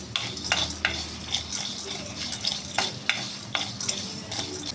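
White sesame seeds fry in a pan as a spoon stirs them in regular scraping strokes, with a soft crackle underneath, close and fairly quiet, and no talking.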